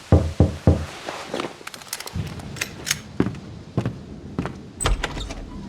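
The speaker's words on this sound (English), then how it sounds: "I had woken up to a knock at my door." Knocking at an apartment door in Max Payne 2, a few sharp raps at the start followed by scattered thuds and clicks of movement, fairly close and with no talking.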